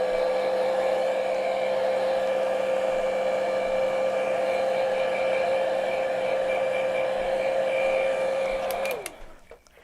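A hair dryer blows steadily on a tea-themed painting, a loud even whine and rush of air that runs nearly ten seconds, then switches off and spins down, followed by a few faint clicks.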